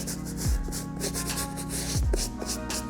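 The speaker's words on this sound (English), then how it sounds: "I'm gonna take this medium bristle brush and I'm gonna hit the soles of these shoes too" A medium bristle brush scrubs the soles of Nike SB sneakers with steady back-and-forth rubbing strokes, close and moderately loud, in a repeated rhythm.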